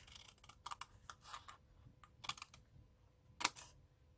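Cardstock box top cut along score lines with scissors, a series of short crisp snips and clicks spread irregularly, with a sharper louder snip near the end, close by and without talk.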